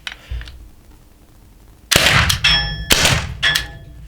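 CCK TR50 CO2-powered rubber ball gun shots striking a target: a faint early pop, then two or three sharp loud cracks with ringing metallic clangs in quick succession, no talking.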